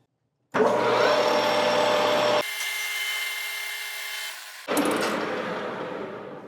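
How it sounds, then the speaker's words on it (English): A power drill whirs loudly drilling out a part of a Kobalt regulator with a 25/64 bit, drops to a lower steady hum for a couple of seconds, then bites back in with a rougher grinding sound. "let's go ahead and drill this out 25/64"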